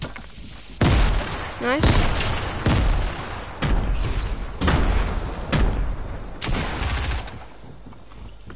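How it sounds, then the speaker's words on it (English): Grenades exploding in Fortnite, about seven heavy booming blasts at roughly one-second intervals, loud and close, with a player briefly speaking between them. "So I'm chucking grenades out of here."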